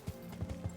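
A handful of close horse hoof clops sound in Kingdom Come: Deliverance, spaced unevenly over a faint humming game backdrop.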